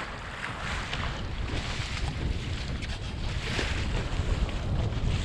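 Large lake waves surge around a small Sunfish sailboat on open water, a loud, steady wash of water and wind buffeting the microphone throughout, swelling slightly toward the end with no voices.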